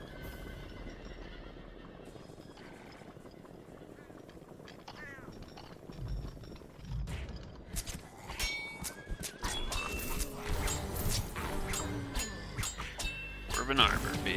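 Horse ridden in the fantasy role-playing game Sacred Gold, with whinnies and clip-clop hooves growing busier and louder over time amid combat effects and game noise, while someone talks over it.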